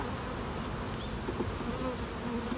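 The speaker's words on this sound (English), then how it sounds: "there's a lot of bees fanning here" Worker honeybees fan at the entrance of a hive during an open hive inspection, a steady dense buzzing drone with a few louder passes from individual bees flying nearby.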